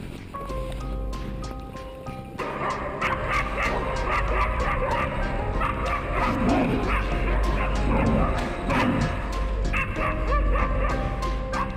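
Husky dogs bark, yip and whimper excitedly at a bear-baiting competition, a continuous loud chorus of overlapping dog voices close by, with some people talking faintly beneath.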